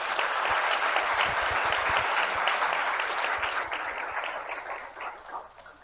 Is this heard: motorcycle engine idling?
no